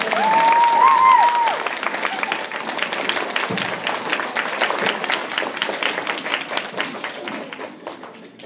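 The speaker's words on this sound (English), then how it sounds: "Let's give them a round of applause" Audience applause at a public speaking contest, starting loud and full then easing slightly while continuing steadily through the whole stretch; a brief voice rises over it at the start.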